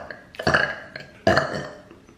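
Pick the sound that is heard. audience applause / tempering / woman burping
woman burping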